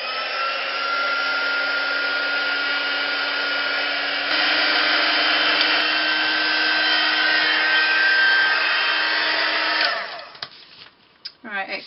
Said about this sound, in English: I'm going to dry that with my heat gun now